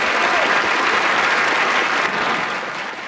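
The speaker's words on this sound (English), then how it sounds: "Turn that applause up a little bit louder." Dense, roaring applause from a large crowd fills the space, steady and loud throughout before easing slightly toward the end, with no voices cutting through.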